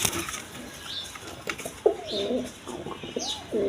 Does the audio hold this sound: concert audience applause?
no